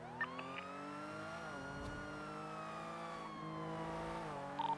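Game car in NoPixel GTA braking hard, a steady engine drone with a long tire squeal that sweeps down and back up over nearly five seconds, loud and close.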